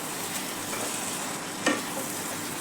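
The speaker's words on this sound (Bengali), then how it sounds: "চিকেনটা ভালো করে আমি কষবো।" Salted, turmeric-rubbed chicken sizzles steadily in a pan while being sautéed for Kolhapuri chicken, a constant close frying hiss with one soft stirring clack partway through.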